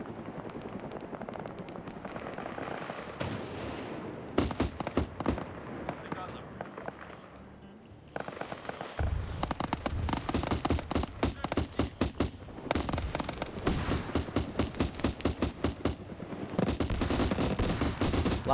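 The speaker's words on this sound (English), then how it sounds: "So we got a long-range rocket attack firing at an entrenched position there." A long-range rocket attack pounds an entrenched position in a military video game, with heavy bursts of gunfire and explosions that build from scattered shots into dense continuous volleys while a voice talks over it.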